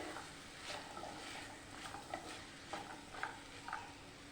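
Green peas, cauliflower and curry leaves sautéing in a pan for samosa filling, with a quiet sizzle and soft, intermittent stirring scrapes and taps and no talking.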